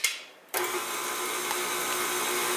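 An electric hand mixer whirs steadily after a brief quieter start, beating eggs into peanut butter oatmeal cookie dough, a continuous close motor drone with no talking.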